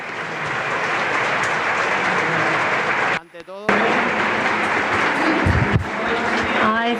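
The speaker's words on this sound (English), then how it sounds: "I want a big round of applause for the ambassador of the program, Sarah" Applause greets Sarah, the ambassador of the PLD Space program and an astronaut, with dense crowd clapping that breaks off briefly around the middle before resuming strongly alongside some voices.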